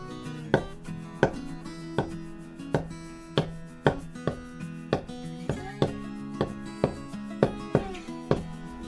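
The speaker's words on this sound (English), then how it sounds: "The first thing we do is make small cuts on the sinews, which run between the fat and red meat." A knife cuts the sinews between fat and lean on slices of pork for ginger pork, striking the board in a steady, even rhythm of about a dozen crisp, close taps.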